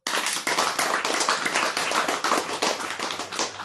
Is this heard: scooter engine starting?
no